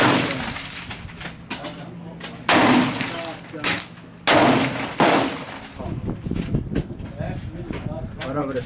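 A Hatsan 135 .25 air rifle fires at a range, its sharp cracks and thumps loud and close, broken up by bursts of noise while people talk nearby.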